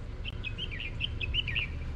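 An oriental magpie-robin sings a quick run of bright, varied whistled notes at moderate distance outdoors, over a low background rumble.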